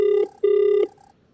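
A telephone rings in two short electronic trills with a pause between, clear and fairly close, then falls quiet.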